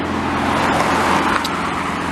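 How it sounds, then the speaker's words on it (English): Heavy city street traffic on De Salaberry Boulevard in Montreal's Ville St-Laurent borough, a loud, continuous roar of many passing cars close by. "It sounds like a lot of cars in my neighborhood."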